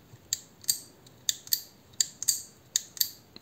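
Shimano Aero BB fishing reel bail flipped repeatedly to the fully open position, making sharp, bright metallic clicks. They come in quick pairs at a steady pace, close up and alone.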